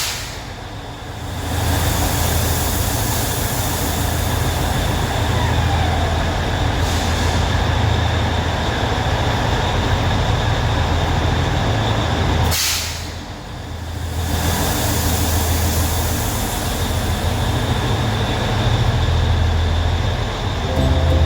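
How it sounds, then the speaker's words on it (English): Matheran toy train running along its rail line at a hill station during the monsoon, a continuous loud rumble and clatter of wheels on track that holds steady for the whole stretch, dipping briefly about midway. "The toy train has left us behind, and now we have to walk through the stretch along the rail line."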